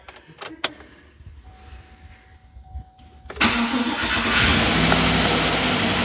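A swapped engine in a Chevy Silverado 4x4 pickup cranks after a few clicks and quiet moments, catches with a sudden loud roar, then holds a steady, rumbling idle up close.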